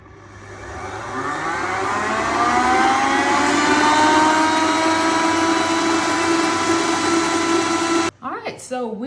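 An electric mixer whips egg whites and sugar into meringue for coconut macaroons, its motor whine climbing in pitch and then holding a loud, steady drone before it cuts off and a voice briefly speaks.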